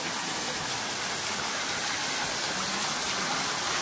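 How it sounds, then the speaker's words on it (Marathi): A waterfall at Dhareshwar temple roars in a steady, close, unbroken wash of rushing water with no other sounds. "असा धबधबा बघा किती भारी आहे"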